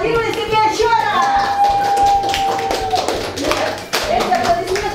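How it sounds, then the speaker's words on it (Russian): Scattered hand clapping from a group of guests at a corporate New Year party, mixed with excited voices and a sustained tone, fairly loud and continuous throughout. "Молодцы, поаплодируйте себе еще раз!"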